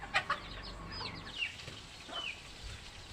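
Household chickens cluck faintly in the background, with soft, scattered calls over a quiet, low rumbling room tone.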